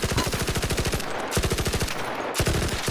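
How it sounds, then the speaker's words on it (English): Automatic gunfire outdoors in ARC Raiders: three loud rapid-fire bursts with crisp individual shots and short pauses between them, with open-air echo trailing each burst. "And if you're outside, your gun sounds like this."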